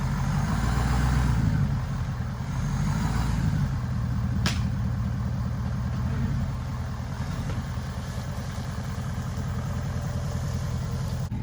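A wrecked Ford 6.7 Powerstroke diesel engine idles to warm up outdoors, a steady low rumble with a faint brief click, no talk.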